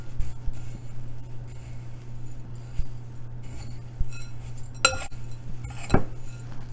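Dry muffin ingredients such as baking powder being stirred in a mixing bowl, giving a faint steady scrape with two sharper clinks of the utensil against the bowl near the end.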